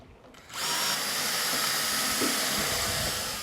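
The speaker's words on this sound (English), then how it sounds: "Drill a pilot hole in the other end in exactly the same place." A power drill boring a pilot hole in wood whirs steadily at high speed for about three seconds after a brief quiet start, loud and close.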